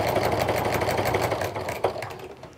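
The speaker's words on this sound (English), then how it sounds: "And then just sew right off the edge." A sewing machine stitches a jelly roll rug at close range, its rapid, even mechanical chatter running steadily before easing off near the end as the fabric runs off the edge.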